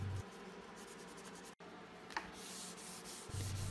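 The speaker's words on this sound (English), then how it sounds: "I sand lightly by hand with 600 grit sandpaper between coats of lacquer." Soft, steady rubbing of 600-grit sandpaper worked by hand over lacquered cherry wood, a continuous close scratchy hiss with one brief pause, no talking.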